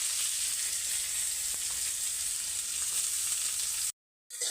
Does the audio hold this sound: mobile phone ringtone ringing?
no